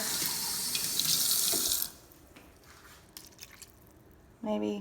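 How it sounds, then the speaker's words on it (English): Water runs from a tap in a steady hiss for about two seconds while measuring water for chicken and rice, then stops, followed by faint drips and a brief voice at the end. "Seems a little bit dry, so I'm going to put in half a cup of water."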